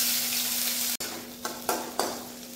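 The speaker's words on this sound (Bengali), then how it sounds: "পেঁয়াজ আর রসুন একটু ভাজা ভাজা করে নিচ্ছি" Chopped onion and crushed garlic sizzle loudly in hot oil. A brief break in the sound is followed by several stirring scrapes against the pan.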